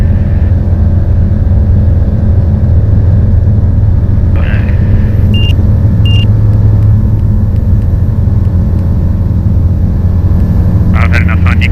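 Engine of a Sling 2 light aircraft at takeoff, a loud steady low drone with a few brief high tones, heard from inside the cabin with faint voices over the intercom.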